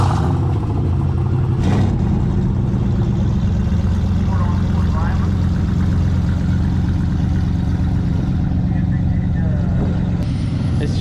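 A twin-turbo truck of about 1200 hp drag racing a junkyard 5.3 LS turbo car, heard as a loud continuous engine roar with deep rumble and hiss that holds steady, with voices talking underneath.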